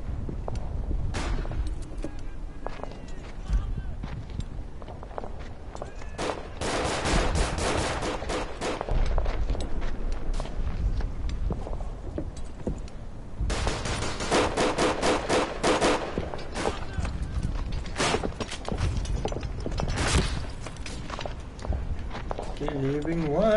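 Repeated gunfire from the video game Verdun, fast automatic bursts and single rifle shots in dense volleys across the clip, some close and loud, others farther off, with footstep-like thuds between shots.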